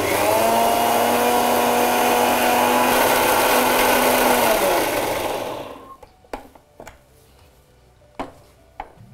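An electric mixer grinder blends a herbal hair pack with water, running as a loud, steady whirring whine for about five seconds before winding down, followed by a few sharp clicks and knocks of the jar.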